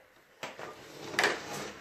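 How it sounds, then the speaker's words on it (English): A standard knobbed door is turned and pushed open nearby, giving a soft latch click followed by a brief creak and a light knock, quiet and alone. "Then you push in the door"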